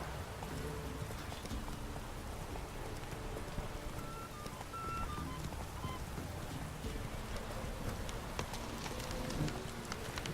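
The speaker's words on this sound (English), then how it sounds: "Proper downpour this is." Heavy rain pours down in The Witcher 3. A dense, steady hiss of falling water fills the whole clip, with faint scattered tones and soft knocks mixed in.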